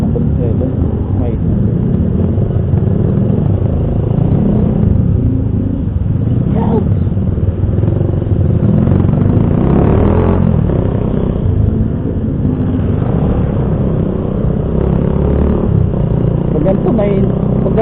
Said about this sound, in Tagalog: mahina pa yung tunog ng motor ko na yan.